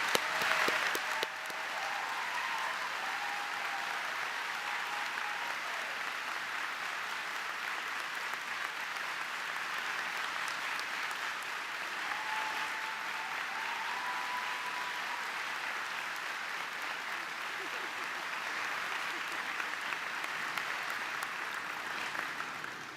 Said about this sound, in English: give all of you an outstanding round of applause